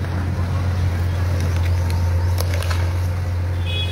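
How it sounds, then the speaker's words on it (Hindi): Tractor trolley and JCB engines clearing garbage on a hospital road, heard as a loud, continuous low engine drone that holds steady throughout with faint scattered clatter on top. "ट्रैक्टर ट्रॉली और जेसीबी मौके पर पहुंच गई है और कचरे को उठाया जा रहा है।"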